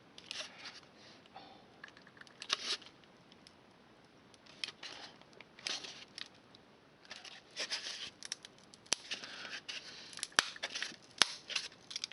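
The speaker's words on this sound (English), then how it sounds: "that popping might actually be a good thing, because I think that is the glue between the cardboard subroof and the shingles" Irregular crackles and pops come from glue letting go between a cardboard subroof and shingles on a damaged craftsman kit model structure being repaired. The snaps are close and dry and scattered unevenly through a quiet background.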